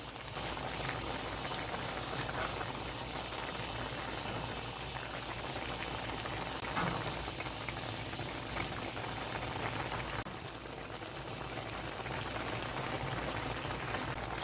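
Spicy bracken and yellow croaker stew bubbles steadily in a pot after ten minutes on high heat and ten on medium, left unstirred. The boil is close, dense and continuous throughout, with no voices.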